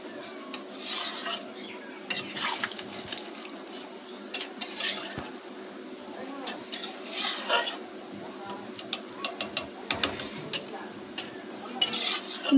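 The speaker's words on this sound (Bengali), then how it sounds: "নাড়িয়ে নেব।" A spoon stirs fish curry with potato and green banana in a metal pot at home, giving repeated scraping clinks and rubbing strokes at an irregular rhythm, close and moderately quiet.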